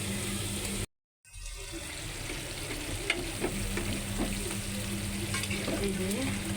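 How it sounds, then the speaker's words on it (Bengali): Jackfruit seeds with dried fish frying and being stirred in a pan, a steady close sizzle with occasional spatula scrapes, cut by a brief silent gap near the start. "এই যে কাঁঠালের বিচি কষাইতে হবে ভালো করে কষাইয়া,"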